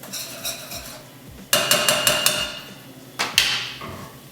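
Chickpea chana masala being stirred in a pan in a home kitchen, with a few soft scrapes followed by bursts of sharp, close metallic clatter and knocking of a utensil against the pan.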